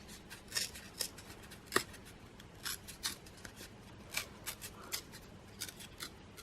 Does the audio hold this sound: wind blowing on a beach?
no